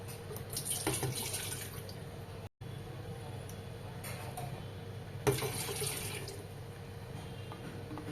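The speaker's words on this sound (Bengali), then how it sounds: "তো এই কাপের আমি 3 কাপ জল দিচ্ছি।" Water pours steadily into a cup as three cups are measured out for roselle tea, a continuous close splashing stream with one brief break, and faint talking behind it.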